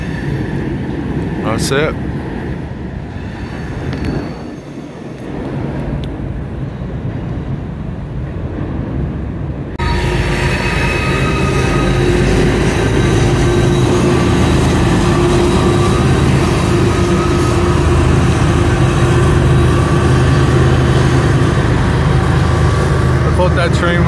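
A constant loud rumble and rattle of a long CSX freight train with flat cars rolling past nearby in Baltimore, with wind buffeting and a brief spoken remark early on.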